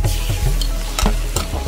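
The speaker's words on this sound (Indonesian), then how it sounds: "On high heat kita fry ni macam kita buat stir fry lah kan." Chicken pieces stir-frying with fragrant lemongrass in a wok on high heat, loud continuous sizzling broken by repeated scraping strokes of a spatula, close up with no talking.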